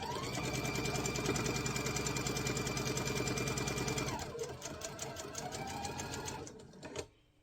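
A sewing machine runs steadily and loudly while stitching quilt block pieces for a Virginia Reel block, its rapid needle clatter continuous for about four seconds, then slightly lighter stitching before stopping near the end.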